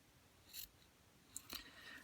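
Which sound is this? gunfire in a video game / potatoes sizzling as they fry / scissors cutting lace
scissors cutting lace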